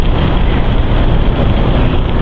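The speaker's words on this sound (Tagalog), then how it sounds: "Mapasok kasi yung hangin." Loud, constant wind roars and buffets the microphone while moving at speed, a dense rushing noise with no pauses.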